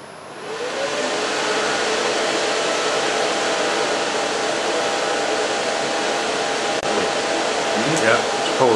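A Chroma Colour 5.1 fabric and yarn dyeing machine runs with a loud, steady whirring hum, an even mechanical drone that holds throughout with a faint click near the end.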